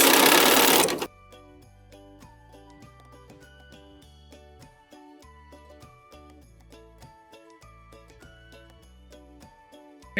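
A sewing machine runs a quarter-inch seam through quilt pieces, a steady rapid mechanical patter with a faint metallic jingle, heard alone after a brief loud burst at the start.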